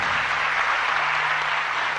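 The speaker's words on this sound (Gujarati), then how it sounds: "માને તાળીઓથી વધાવો છે." Sustained, dense applause from a live audience at a Gujarati folk storytelling performance, steady and loud throughout with no pauses.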